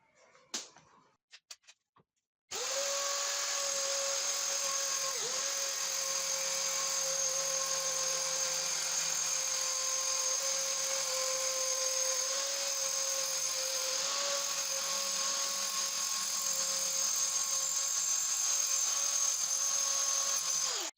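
A HYCHIKA mini circular saw cuts a PVC panel, starting with a few quiet clicks and then holding a loud, steady high-pitched whine with a faint hum underneath for about eighteen seconds.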